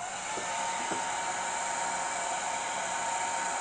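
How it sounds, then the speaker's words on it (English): A steady, whooshing blower hum with a thin whine on top, constant and close, like a heat gun pushing hot air. "Get our trusty little heat gun."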